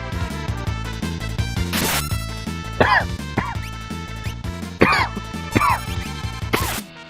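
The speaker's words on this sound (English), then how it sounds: "Try to cough into something so it's not very loud" Several coughs and throat-clearing sounds break out at intervals over continuous background music, some sharp and close.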